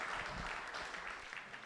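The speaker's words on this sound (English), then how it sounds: "I want to give a big round of applause to Alex Henning from Magnopus." Faint, distant audience applause at a 360 filmmaking masterclass, a brief soft patter of many hands clapping.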